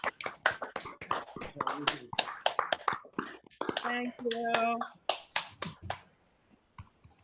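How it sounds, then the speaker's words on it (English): Board of education members at a meeting applaud retirees with sparse, scattered claps, and voices speak over them before the sound drops away. "just take a few minutes and stand up and give all our retirees a round of applause"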